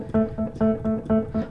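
A quick run of repeated piano notes in groups of eight, with notes 1, 4 and 7 landing noticeably harder, giving a lopsided accented pulse.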